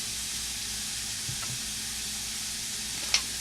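Adobo-seasoned vegetables sautéing for dirty rice, a steady soft sizzle and hiss in the pan with a couple of faint stirring scrapes and a brief sharp clink near the end.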